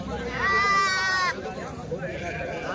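A goat, an eight-month-old buck at a village goat market, gives one clear, wavering bleat lasting about a second, close by, with faint background chatter around it.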